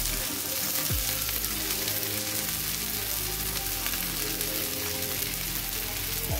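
Poha and potato cutlets shallow-frying in hot oil on a heated tava over low flame, a steady dense crackling sizzle, close and even throughout with no pauses.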